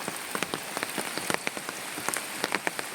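Heavy rain falls in Kerala during monsoon flooding, where fields and river have merged. It is a dense, steady patter with close individual drops tapping a surface.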